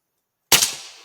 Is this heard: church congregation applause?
no